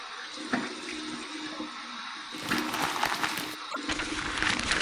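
Warm water runs steadily from a bathroom sink faucet for a shave rinse, as a continuous hiss that swells louder and splashier halfway through, close by and with no speech.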